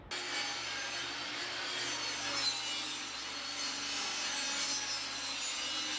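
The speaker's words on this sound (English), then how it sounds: "Now I just need to rip this down the middle to turn it into 2 pieces." Saw ripping a sheet of plywood down the middle for a bus conversion subfloor, a steady, close, rasping cut that runs evenly from start to finish without pauses or talking.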